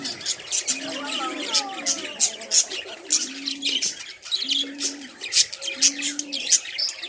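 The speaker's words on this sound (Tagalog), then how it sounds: "Daming bird, oh. Malalaki." A crowd of birds, including lovebirds, at Long Beach, with dense overlapping chirps and tweets and a few low cooing calls recurring in the background, fairly close and lively.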